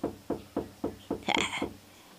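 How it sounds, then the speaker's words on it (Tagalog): Knocking on a door, about seven evenly spaced firm raps, near and clear, with a brief rustle toward the end and no voices. "May kumakatok sa pinto."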